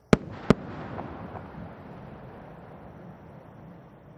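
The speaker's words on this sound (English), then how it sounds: "the space shuttle announces its arrival at the launch site with its signature sound of twin sonic booms" Space shuttle Atlantis announces its pre-dawn return to the launch site with twin sonic booms: two sharp, loud cracks less than half a second apart, followed by a long, low rolling rumble that slowly fades.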